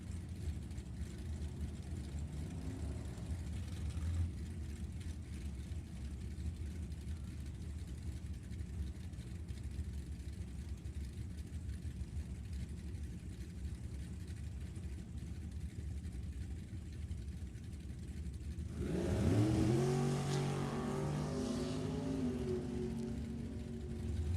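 A drag racing car's engine rumbles low and steady, then revs up sharply and loudly near the end, heard at a distance at a drag racing event.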